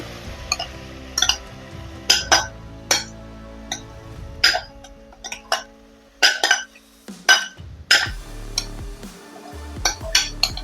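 Soaked, drained dal and rice tipped into a pressure cooker, with a series of sharp metallic clinks and scrapes of a spoon against the cooker's rim, spaced irregularly between quiet pauses.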